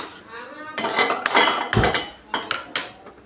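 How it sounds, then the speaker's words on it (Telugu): A metal kadai set down on a gas stove, with a series of close, loud clanks, scrapes and clinks of metal against the burner and cookware, short sharp hits in quick succession. "బాండీ పెట్టుకున్నాను దాంట్లో ఆయిల్ వేసుకుందాం"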